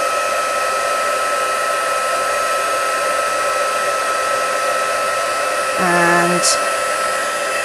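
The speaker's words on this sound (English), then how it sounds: "with my heat tool, I'll come in there" Heat tool blowing hot air to melt embossing powder on an acetate sheet, a loud, steady, close whoosh that runs the whole time, with a brief spoken word near the end.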